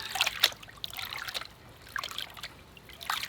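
Water trickles and splashes softly in intermittent bursts as a gold pan is worked in a stream, faint and close with no talk.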